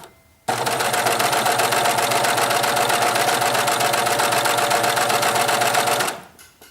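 A Babylock BLCS-2 coverstitch machine runs in one steady, loud burst of stitching for about five and a half seconds, with a fast, even mechanical whir that stops abruptly.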